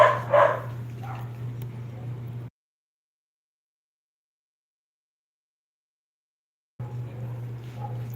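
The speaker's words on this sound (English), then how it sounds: "you dogs need to shut up" Dogs barking indoors, a few short yips and barks near the start over a steady low hum, then silence before the hum returns with faint barking.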